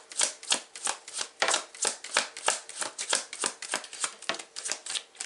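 Deck of tarot cards being riffle-shuffled close up, a rapid run of crisp rhythmic flutters, about three per second, with no talk.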